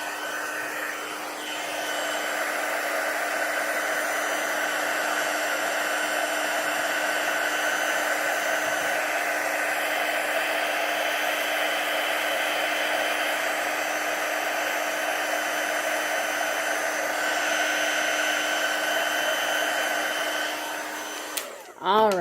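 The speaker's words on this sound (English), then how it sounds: "And then we are going to heat emboss this real quick." A heat embossing tool blows hot air with a steady, loud whirring hum that runs almost unbroken, cutting off near the end.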